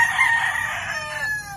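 A nearby rooster in a neighborhood lets out a single loud crow that starts strong and trails off over about a second and a half, heard alone without voices.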